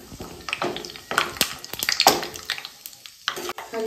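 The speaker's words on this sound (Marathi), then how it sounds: "हलकेसे ब्राऊन होईपर्यंत आपण शेंगदाणे व्यवस्थित तळून घेऊया।" Peanuts frying in hot oil in a home kitchen pan, giving a steady close crackle and sizzle with occasional stirring scrapes, clear and alone with no voices.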